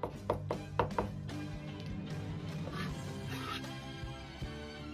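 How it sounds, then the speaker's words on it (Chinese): A knife chops an ingredient finely on a cutting board for a cold dish, with four or five quick, crisp strikes at the start followed by softer, continuous scraping and chopping, heard close but quiet. "开破后再剁碎，这个稍微剁细一点"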